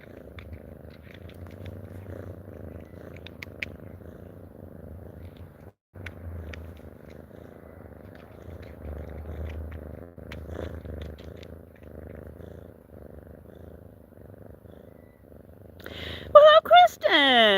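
A cat purrs close up in a steady, soft, rhythmic rumble that runs on for many seconds, pausing briefly once, with a louder burst of other sound at the very end.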